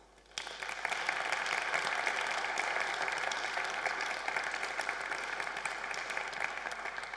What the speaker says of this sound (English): So please welcome with me Manfred Weber with a warm applause.